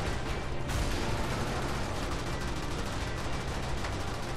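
Continuous mech gunfire from the 80s-style mech destruction game Brigador, a loud, dense barrage of overlapping shots and blasts that never lets up, with no voices.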